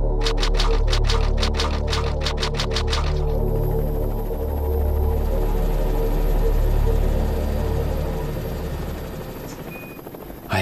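A helicopter flies over a forest near Raccoon City in a Resident Evil live-action fan-dub opening, its rotor thumping rapidly at first, then settling into a loud, steady, low engine drone throughout.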